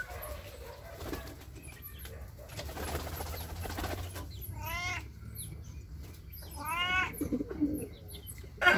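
A cat meows twice up close, drawn-out wavering cries a couple of seconds apart, with pigeons fluttering and cooing around it.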